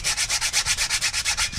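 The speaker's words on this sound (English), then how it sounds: "I'm gonna spray a little bit on my rust on it and sand a little bit outside here to make sure I get the rust out." 200-grit sandpaper scrubbing rust off a 2007 Ford F-150 wheel bearing, making close, loud, rhythmic rasping strokes in a steady back-and-forth pattern of about a dozen passes.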